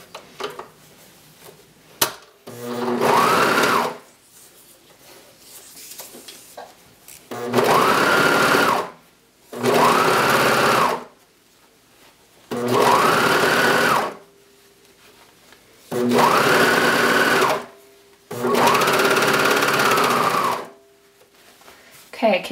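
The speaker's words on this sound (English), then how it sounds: "I can see I'm starting with sewing the front of the suit." Sewing machine stitching the front of a swimsuit, six loud close bursts of rapid whirring stitching separated by short pauses, with a voice talking faintly in the gaps.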